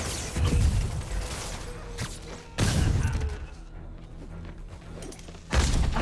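Gunfire in the video game Marvel's Spider-Man, three heavy bursts of shots and impacts separated by quieter stretches of ambient combat noise.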